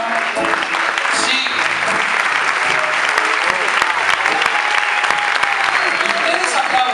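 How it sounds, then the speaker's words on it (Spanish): Audience applause and cheering at a carnival murga performance, a dense, steady clapping from a large crowd that holds at full strength for about seven seconds, with a few shouts mixed in. "Ustedes aplauden."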